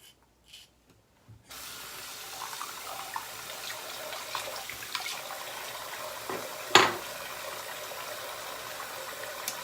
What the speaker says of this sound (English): The soap is really thick on the razor, so a little bit longer to rinse off the lather.